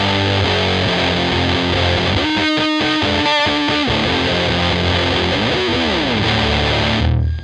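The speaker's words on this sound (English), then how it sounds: "Patch B for the big muff is just" An electric guitar riff pushed through a Big Muff distortion pedal patch, a thick, fuzzy and heavy sustained tone, loud and alone, with a stuttering chopped section partway through before the sound cuts off at the end.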